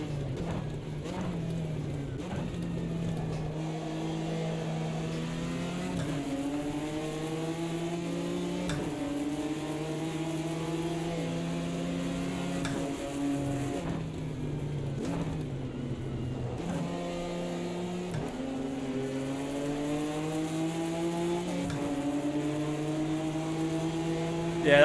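A Ginetta race car engine in the Automobilista 2 racing game at the Bathurst circuit revs up repeatedly through the gears, with rising tones that drop at each shift over a steady close drone.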